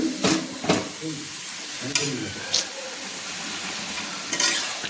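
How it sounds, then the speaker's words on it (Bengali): Malabar spinach and shrimp curry sizzles in a pan as water is added, giving a steady frying hiss broken by several short, sharp splashy bursts and stirring sounds, close and alone. "পুঁই মেথির মধ্যে আরেকটু জল আমি অ্যাড করে দিচ্ছি"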